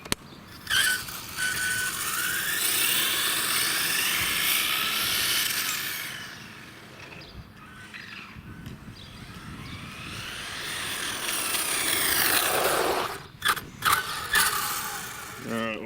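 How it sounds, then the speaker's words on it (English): A ZD-Racing Thunder ZTX-10 RC car's brushless motor, on 3S, whines and gear-rattles as it speeds up and slows down in two long surges, with a few sharp mechanical clatters near the end. "ZTX-10, first run, brushless motor"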